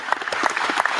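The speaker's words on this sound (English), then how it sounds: "That definitely deserves a clap." A short burst of steady clapping from several hands, continuous and fairly close, with no voices over it.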